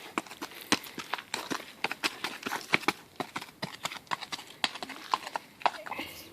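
A horse under saddle clip-clops at a steady walking rhythm, each hoof strike sharp and close, with people talking over the hoofbeats throughout.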